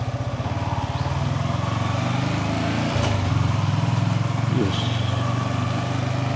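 Motorcycle engine running close by, a rhythmic low putter that rises slightly midway and holds steady, with a brief voice over it near the start.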